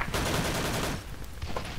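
Rapid, loud gunfire bursts dominate the first second, followed by scattered shots and game noise from the video game S.K.I.L.L., with no talking.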